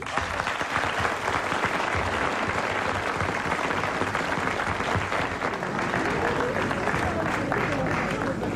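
A live audience on a French radio comedy panel show gives sustained applause, a dense, even wash of many hands clapping at once that holds steadily throughout.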